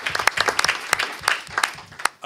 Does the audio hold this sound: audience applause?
yes